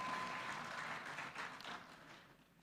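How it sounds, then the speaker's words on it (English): Audience applause fills a conference hall on governance and Pan-Africanism, a dense wash of clapping that holds steady and then slowly thins out toward the end, with no voices over it. "Let us give them a round of applause."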